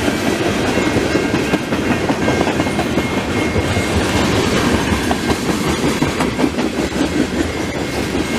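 A long CP mixed freight manifest train rolls through the Beaurepaire level crossing in Montreal, a loud, continuous rumble of railcars with steady clickety-clack from the wheels close by.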